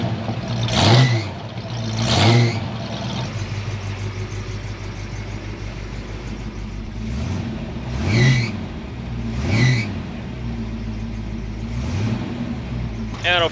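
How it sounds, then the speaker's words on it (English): A 1967 Ford Mustang Fastback V8 muscle car engine idles with a deep rumble and is repeatedly blipped into loud, brief revs, about six bursts spaced across the stretch, close by. "true muscle car V8 sound coming from the 67 Fastback here."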